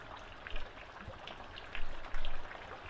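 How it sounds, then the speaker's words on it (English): Water running in a woodland stream, a steady broadband trickle and splash with a few louder gurgling bursts, close by and with no talk. "Nice sound of water"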